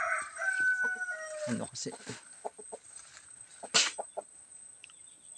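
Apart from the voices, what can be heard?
native chickens crowing and clucking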